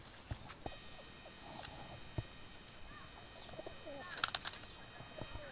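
Madras and Giribaz pigeons at a home loft make faint, scattered cooing and soft calls against quiet background noise, with a short burst of flapping or scraping near the end.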